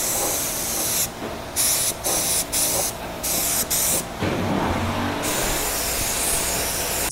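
Spray gun applying 2K primer coat over automotive bodywork, bursts of loud close hissing spray broken by brief pauses, then a longer continuous pass.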